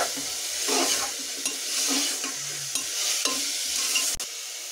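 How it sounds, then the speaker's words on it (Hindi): Green chillies and chopped potatoes frying and being stirred into a tomato masala in a pan, a steady close sizzle with scraping spoon strokes and a sharp clack near the end, no talk. "अब मैं इसमें ये हरी मिर्च डाल दूंगी। साथ ही ये कटे हुए आलू डाल दूंगी मैं।"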